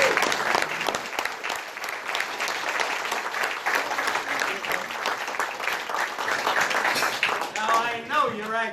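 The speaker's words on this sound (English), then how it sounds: "you, my friend, get all of the applause" An audience bursts into loud, dense applause for a contestant, sustained clapping from many hands with a voice talking over it toward the end.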